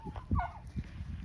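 Domestic fowl calling outdoors around a farmyard, with short gobbling or clucking calls in a quick irregular burst, moderately near and fairly quiet against background noise.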